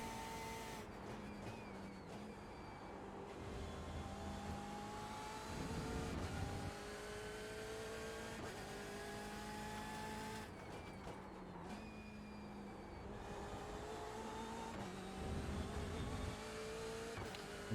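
A simulated M8 GTE race car in the iRacing game runs at Road America, its engine note climbing repeatedly and bouncing off the rev limiter in stuttering bursts, with gear-change dips, loud and close and no talking.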